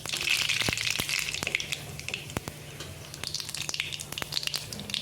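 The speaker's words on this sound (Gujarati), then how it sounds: "હવે આપણે રાઈ નાખી દઈશું।" Mustard seeds crackle and sizzle in hot oil during tempering for raw banana sabzi, a dense steady fizz with sharp scattered pops and crackles throughout, close and fairly loud, with no talk.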